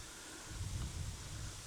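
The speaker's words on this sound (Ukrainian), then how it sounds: "Дуже заважає вітер." Wind buffets the microphone in a low, steady rumble that swells slightly for a moment, faint and with no one speaking, outdoors while spin fishing.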